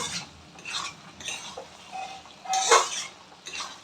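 A utensil stirs a potato and greens-stalk curry in a pan, giving repeated scraping, clinking strokes at an irregular rhythm, moderately close, with faint background hiss between strokes.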